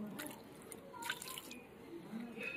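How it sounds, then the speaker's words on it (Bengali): Water is poured over cut green jackfruit to wash it, giving faint intermittent splashes and drips close by in a quiet kitchen. "ইঁচড় কেটে আগে এইভাবে জল ঢেলে দেবো। এই দেখুন ধুয়ে যাচ্ছে"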